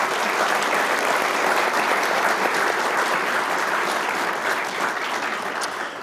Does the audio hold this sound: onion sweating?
no